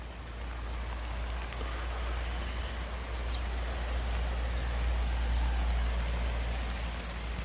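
Rain falls outdoors on a farm nursery as a continuous soft hiss, with a steady low rumble beneath and no voices.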